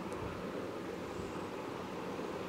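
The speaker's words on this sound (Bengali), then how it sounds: "আর এদিকে আমার ভাতের জলটা প্রায় ফুটে এসেছে" Water for rice coming to a boil in a pot, a steady, dense rushing bubble and roar that runs without a break, fairly loud and close, with no voices.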